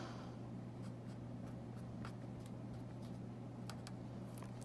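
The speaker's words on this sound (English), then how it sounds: "So I'm going to go ahead and write yttrium." Handwriting with a pen or pencil makes soft, scattered scratching strokes, faint and close, over a steady low electrical hum.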